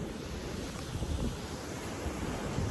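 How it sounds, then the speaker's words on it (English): Small ocean waves wash onto a beach on a windy day, a continuous low rumble of surf with gusty wind buffeting nearby, no talking. "the waves are small, but it's pretty windy today, so that's kind of annoying"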